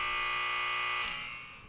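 A loud, steady electronic buzzer drones for about a second, then fades out, with no other sound around it.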